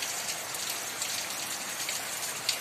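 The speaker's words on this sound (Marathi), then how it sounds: "कोकणात पण पडतोय खूप, सगळीकडेच खूप पाऊस पडतोय" Heavy monsoon rain pours down steadily during the month of Ashadh, a dense, even hiss of drops with scattered louder patters close by, and no voices over it.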